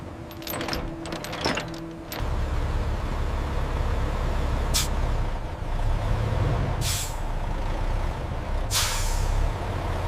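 A truck passes with several sharp hissing air brake releases spaced a couple of seconds apart over a steady low engine rumble, loud and close.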